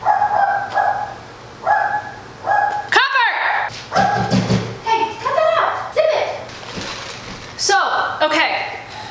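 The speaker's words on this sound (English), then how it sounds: "My dogs are out there barking." Dogs bark repeatedly outside in short bursts, some yips and whimpering cries among them, while a person talks nearby over the barking.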